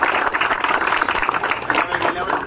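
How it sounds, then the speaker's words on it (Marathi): A crowd at a Dahi Handi practice event in Kandivali applauds to welcome the chief guest, a dense steady wash of clapping close by that mixes with a voice talking throughout. "आज प्रमुख पाहुणे म्हणून संजयभाई मोदी आले, त्यांचं आपण टाळ्या वाजवून हार्दिक स्वागत करतो."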